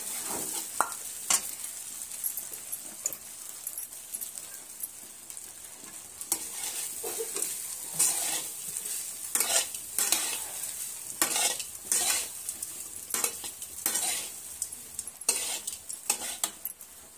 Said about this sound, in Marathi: हा पूर्ण भात मी घालून ह्यात परतून घेणार आहे।